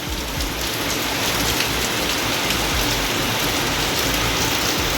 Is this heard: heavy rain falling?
yes